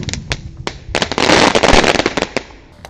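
A 1.5-size Roman candle firework lit inside a jumbo watermelon gives scattered sharp pops, then a dense roaring crackle for about a second, then more isolated bangs fading out; loud and close.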